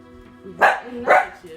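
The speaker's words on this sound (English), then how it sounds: "Sorry for my dog barking." A dog gives two loud, sharp barks nearby, roughly half a second apart, while a person speaks quietly underneath.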